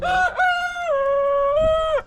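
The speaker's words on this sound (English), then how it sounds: "That was her cock-a-doodle-doo." A rooster crows once, a long, loud, close cock-a-doodle-doo that wavers in pitch and cuts off sharply.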